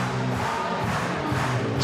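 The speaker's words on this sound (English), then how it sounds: "And the crowd is going wild again," Crowd cheering and roaring at a women's bouldering final in Prague, a dense, steady wall of voices filling the arena with no pause, swelling slightly toward the end.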